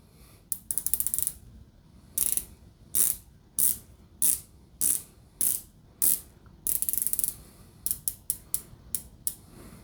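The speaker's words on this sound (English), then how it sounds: "Nodus actually puts this bezel insert on some ceramic bearings. So the action is extremely crisp and very precise. Somewhat tight, but take a listen." Ceramic-bearing bezel on a Nodus Avalon v2.0 dive watch being turned, giving about a dozen crisp, sharp clicks in quick bursts at an uneven rhythm, close up and clear against a quiet background.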